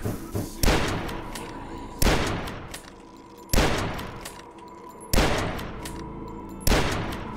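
Hunting rifle fired in the video game DUSK: five loud, sharp shots spaced about 1.5 seconds apart, each with a booming tail that decays slowly before the next.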